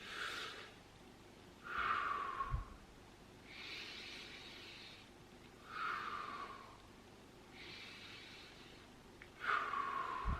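Slow, deep breaths during a meditation exercise, each long hissing inhale alternating with softer exhales in a steady, unhurried rhythm, close and quiet with no talk.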